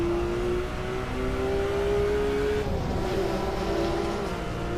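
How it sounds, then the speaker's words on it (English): A race car engine drones steadily in Assetto Corsa, its pitch climbing slowly as the car holds speed, then a brief shift and settle; loud, close and continuous with no talking. "That's also a legit race car."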